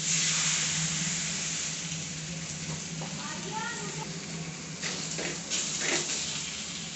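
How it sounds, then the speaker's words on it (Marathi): Oil sizzles on a hot tava (griddle) before thalipeeth is cooked, giving a steady close-up hiss with a few louder crackling bursts near the end. "तवा तापलेला याच्यावरती अगोदर पहिलं तेल टाकूयात।"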